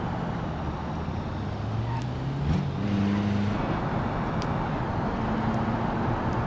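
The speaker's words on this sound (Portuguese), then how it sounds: "O barulho do motor dele é bem diferente também." A front-wheel-drive car engine in the BeamNG.drive driving game hums steadily and loud throughout, with a brief gear-change rise midway and a constant road-like rumble underneath.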